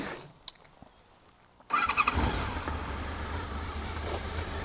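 A Honda VFR 750 V4 motorcycle engine starts up after near-quiet, catching abruptly and settling into a loud, steady, lumpy idle close by, with no talk.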